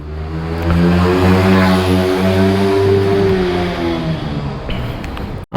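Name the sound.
motorcycle engine accelerating while riding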